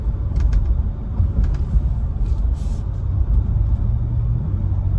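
A 2022 Ford Expedition XLT accelerates in sport mode, its engine a steady deep low rumble heard from inside the cabin with faint road noise and no talking.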